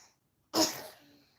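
A single sharp sneeze bursts out after a short silence, loud and close, then tails off into quieter breath and room noise.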